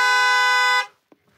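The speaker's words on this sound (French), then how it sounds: "Le klaxon reste évidemment très fort" A car horn blares in one loud, steady tone inside an anechoic acoustic lab, then stops abruptly with almost no echo, followed by a faint tap.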